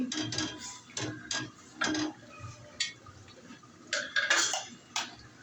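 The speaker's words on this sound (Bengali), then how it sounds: "নেড়ে চেড়ে নিচ্ছি।" A utensil stirring milk and semai in a pot produces a series of distinct clinks and scrapes against the metal, irregularly spaced and moderately close.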